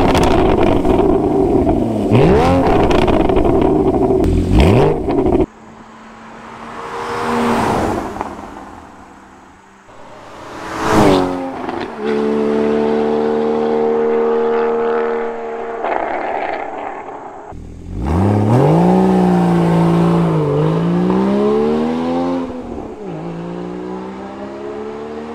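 Porsche 981 Cayman S flat-six engine heard while driving, rising and falling through several revs and gear changes with short pauses between, close and loud with no talking.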